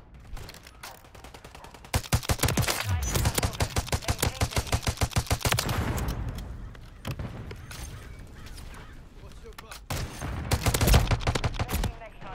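Rapid gunfire in a video game shooter: a long burst of evenly spaced shots, then scattered single shots and another short burst, loud and close, with a voice talking in between.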